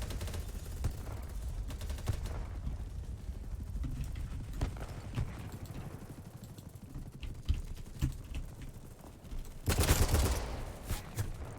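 Bursts of AK15 rifle fire in the video game BattleBit Remastered, quiet rapid volleys of clattering shots scattered across the clip with a louder burst near the end.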